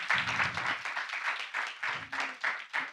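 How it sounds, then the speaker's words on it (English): An audience at a startup demo day in Batch 2 of M1TQ applauds a winning team called to the stage, producing a steady run of close, loud clapping bursts that rise and fall over the whole stretch. "Applause and photo."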